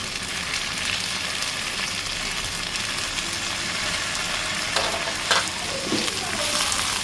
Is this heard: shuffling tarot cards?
no